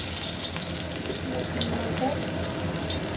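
Garlic sizzling in a pan of very hot oil on a tawa, heard as a dense, constant, fairly loud crackle that runs without a break.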